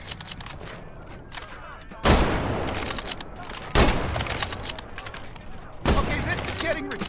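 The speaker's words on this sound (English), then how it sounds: "The K98 is a bolt-action rifle, so you reload by pulling and pushing the bolt after each shot." K98 bolt-action rifle shots in the Medal of Honor video game, three loud, close blasts spaced a couple of seconds apart over a steady background din.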